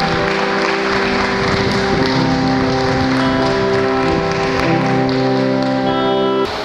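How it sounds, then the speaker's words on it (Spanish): A church congregation applauds in a steady, dense wash of clapping that lasts throughout, accompanied by sustained organ or keyboard chords, with no voices standing out. "Te invito a que le des un aplauso al Señor."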